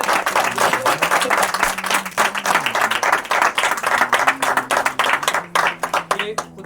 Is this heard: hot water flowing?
no